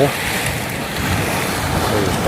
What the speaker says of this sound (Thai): น้ำกำลังเดือดจัดเลยครับกำลังโมโหใหญ่เลยนะครับ